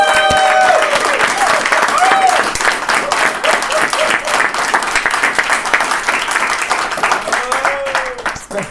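Audience at a convention closing ceremony breaks into sustained clapping and cheering, loud and close throughout, tapering slightly at the end, with voices mixed into the crowd noise.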